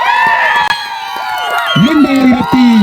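A crowd cheers and whoops at a cricket match prize ceremony, loud and close, with shouting voices and tonal calls rising over the noise for a few seconds.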